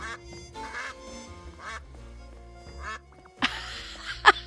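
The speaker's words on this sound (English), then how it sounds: "I didn't know I had a dedicated quack button" A duck quack sound effect triggered by a dedicated button in the Duck Detective: The Secret Salami video game, a short sharp quack near the end, over game music and ambience.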